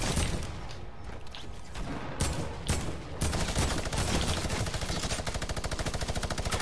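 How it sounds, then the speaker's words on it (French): Sustained automatic gunfire in the battle royale game Fortnite: a rapid, steady rattle of machine-gun shots that grows tighter and louder in the second half, preceded by scattered bursts. "Qui me tire dessus là?"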